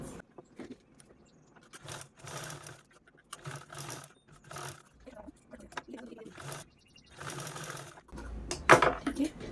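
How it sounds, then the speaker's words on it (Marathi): A sewing machine stitches a potli bag in bursts of rapid mechanical whirring, several short runs separated by pauses and fabric handling, with a sharper clicking rattle near the end. "या पद्धतीने आपल्याला यावरती स्टिच करून घ्यायचं आहे"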